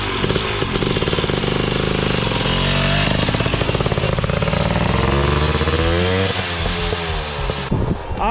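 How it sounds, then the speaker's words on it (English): A Honda ATC 250R two-stroke three-wheeler engine warms up nearby, its loud, continuous buzzing drone wavering in pitch with blips of throttle throughout. "you love that two-stroke smell and sound"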